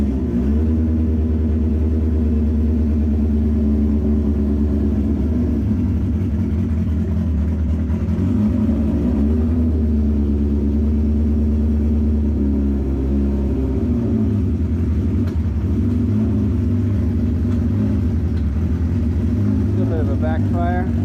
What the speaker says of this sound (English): turn this switch, turn the bike on, neutral light's working. Let's hit the button.